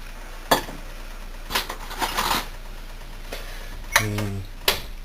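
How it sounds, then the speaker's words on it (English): Clover leaves and blossoms stirred into a cooking pot for a wild food dish, giving a few sparse clinks and soft scrapes of a utensil against the pot, separated by quiet gaps. "And just stir them in so they're wetted"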